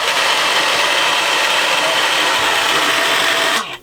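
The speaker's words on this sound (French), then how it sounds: "Là, j'installe le super blower, si vous voulez entendre. C'est le fan de la chambre des moteurs." Engine-room blower fan on a Corbin 39 sailboat, with a worn bearing, runs close and loud as a steady high-pitched whirring drone, then cuts off abruptly near the end.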